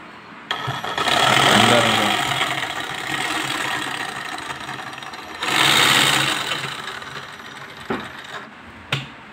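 A Ryobi reciprocating saw runs in two loud bursts of buzzing, rattling motor noise, the first longer and the second shorter, each trailing off, followed by a couple of sharp clicks from the switch, close up with no talking.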